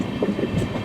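Sapthagiri Express AC train rolling along the rails, a steady close rumble with faint clattering from inside the coach and no clear voices.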